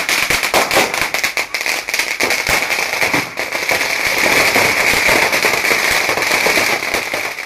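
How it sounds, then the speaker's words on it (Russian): Dense, rapid crackling bangs of firecrackers going off close by in Hainan, China, marking the opening of the fishing season, continuous and loud for several seconds with no pause. "Шум взрывающихся петард тому подтверждение."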